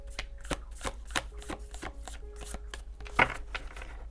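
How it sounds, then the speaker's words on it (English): A thick deck of tarot cards being shuffled by hand, with a series of soft, rhythmic riffling bursts about every half second and one sharper snap near the end, close and fairly quiet. "so it's hard for me to shuffle. The cards get kind of stuck"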